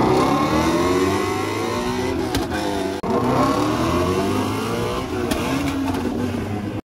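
Engines of a Ford Mustang and a Shelby, both rear-wheel drive with manual gearboxes, rev continuously before a race, with loud rising and falling engine tones and a short break partway through.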